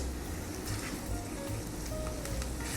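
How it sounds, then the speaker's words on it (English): Soup ingredients sautéing in a pan with salt and black pepper give off a steady, soft sizzle and crackle that runs unbroken and fairly quiet throughout, with no voices. "We're going to saute this for 1 more minute"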